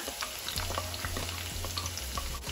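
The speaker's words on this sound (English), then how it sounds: "All right, our oil is hot, and I'm going in with my onion." Chopped onion hits hot oil for Jamaican franks and beans, setting off a loud, steady sizzle close by, with a few soft clinks of stirring scattered through it.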